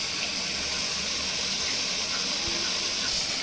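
Masala vada frying in hot oil, a steady, dense sizzle and hiss that runs unbroken throughout, with faint soft bubbling beneath.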